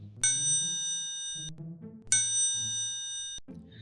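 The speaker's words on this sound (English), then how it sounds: "Babar finds the house easily and rings the bell." A doorbell chimes twice, each ring a bright ringing tone that sustains for over a second and then cuts off, with a soft musical background underneath.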